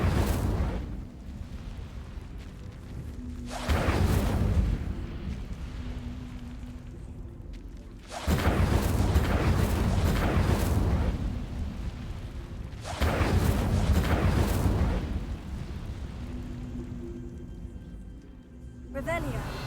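Incendio fire spell cast in the Hogwarts Legacy video game, three long roaring fiery bursts that swell and hold for several seconds each, loud and close, with a voice speaking faintly underneath.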